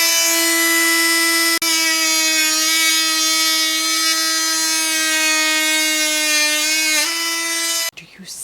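A power trimmer runs at a steady high-pitched whine while cutting birch branches, with one brief dip partway through and a slight pitch shift near the end before it cuts off. A short burst of other noise follows.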